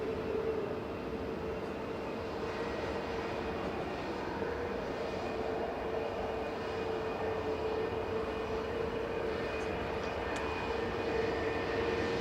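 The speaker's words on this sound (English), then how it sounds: "EasyJet to Pisa departing now, flight 2129, EZUF operating this flight, A320 Classic." An EasyJet Airbus A320 Classic, flight 2129 to Pisa, departs Manchester Airport with a faint, distant, sustained engine roar and a steady whine throughout.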